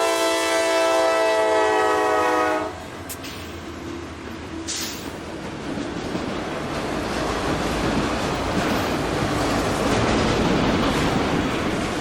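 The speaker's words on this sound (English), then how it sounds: "Q458 is coming north with an ex-Conrail C40-8W leading." Freight train Q458, a Jacksonville to Waycross, Georgia shuttle led by an ex-Conrail C40-8W locomotive, sounds a loud sustained horn, then rumbles past with a steady, heavy roar of wheels and cars.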